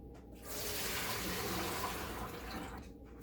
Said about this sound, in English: Now I'm going to drain this water off of here and rinse them off real good.